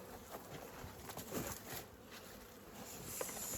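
Honeybees of a medium-sized swarm colony from Lyubotyn hum around an open hive box during an apiary inspection, a steady close drone with occasional louder passes of individual bees near the listener.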